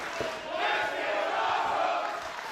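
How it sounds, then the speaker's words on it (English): A wrestling crowd at a Relentless Wrestling show cheers and roars in appreciation, a broad sustained wash of voices that swells loud and stays dense throughout. "The crowd showing their appreciation."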